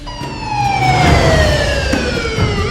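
A loud wailing siren rises and falls continuously, with layered harmonic tones sweeping downward, steady and close throughout.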